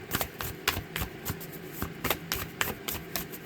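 Tarot cards are shuffled close up in quick, repeated riffling bursts with no talking.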